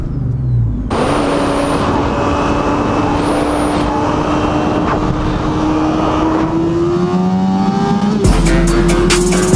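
A car doing a burnout roars loudly and continuously, its engine drone climbing slowly in pitch with a faint tire squeal on top, before the tone drops abruptly near the end and a harsher roar takes over.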